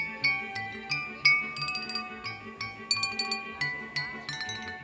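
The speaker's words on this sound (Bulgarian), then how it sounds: "единственият инструмент, на който свири, са чашите с вода" Struck water glasses filled with varying amounts of liquid ring out in a tinkling melody of clear, bell-like pitched notes, each chime fading quickly, played at a steady gentle rhythm.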